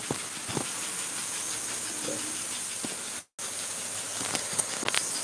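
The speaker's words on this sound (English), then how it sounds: "Mikado type steam locomotive, 282." A model Mikado 2-8-2 steam locomotive hisses steam in a steady, fairly faint wash, briefly cut out by a short gap, with scattered clicks and light knocks from the model railway layout.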